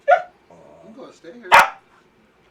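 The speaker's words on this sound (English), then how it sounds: "Who let the dog in?" A dog barks indoors in a home, one sharp bark at the start and a louder one about a second and a half later, with a person speaking briefly between them.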